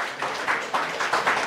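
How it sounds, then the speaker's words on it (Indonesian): A church congregation applauds baptism participants, a short burst of close clapping in uneven pulses. "Mari kita sambut mereka dengan tepuk tangan untuk anak-anak kita."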